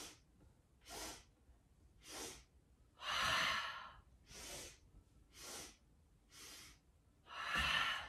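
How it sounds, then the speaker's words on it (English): Breathing exercise during an all-levels yoga practice: repeated sharp nasal sniffs in sets, each followed by a longer, louder open-mouth exhale, close and clear with no talking. "it's 3 sniffs in through your nose, 1 exhale out through your mouth"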